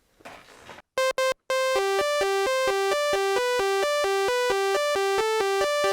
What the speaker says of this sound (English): Let me just get a generic Sawtooth Wave on here.